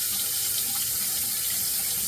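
Tap water runs steadily for wetting a shaving brush, a continuous close hiss and splash with no pauses and no talking.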